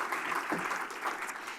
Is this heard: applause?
yes